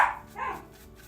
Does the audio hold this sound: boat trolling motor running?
no